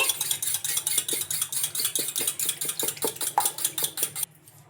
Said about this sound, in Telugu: ఇంకా ఇప్పుడు వీటిని ఒకసారి బాగా ఇలా ఫోక్ తోటి బాగా కలిపేసుకోవాలి.